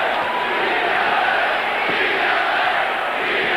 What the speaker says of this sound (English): The crowd is starting to chant "Beat LA."